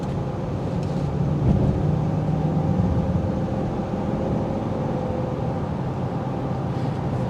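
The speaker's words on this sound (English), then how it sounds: "that noise that you're getting from that exhaust" A 2023 Dodge Durango R/T's steady, low engine drone with a deep exhaust rumble holds constant throughout, smooth and unchanging as if cruising at low revs.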